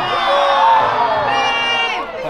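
A crowd of children cheers at a Warwick Castle show, a loud, sustained mass of shouts and whoops that swells and holds for a couple of seconds, close and dense.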